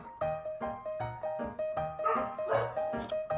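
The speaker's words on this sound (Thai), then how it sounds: "อาจจะมีเสียงมาเห่าหน่อยนะ" A dog barks repeatedly in a steady rhythm, about eight sharp barks close by, with a constant tonal hum running underneath.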